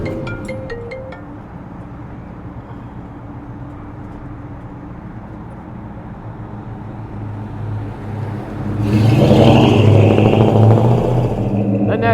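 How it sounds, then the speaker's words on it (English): A 1967 Ford F-100 pickup cruises on the freeway with a steady, close engine drone and road rumble, then swells louder toward the end as it picks up speed. "this just gives you a short shot down the freeway and on some streets here, so you can just get an idea how well it runs and drives"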